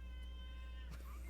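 A house cat meows once, fairly faint and drawn out, over a steady low electrical hum in an indoor recording room.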